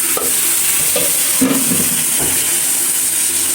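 Chopped potatoes frying in a pan with chicken egg, turmeric, coriander powder and salt give a loud steady sizzle, broken by a few scraping stirs of a spoon; no one speaks.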